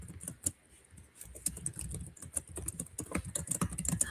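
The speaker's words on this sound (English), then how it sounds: "I'm typing really fast." Rapid typing on a computer keyboard, a quick uneven patter of light clicks heard up close and fairly quiet, with no speech over it.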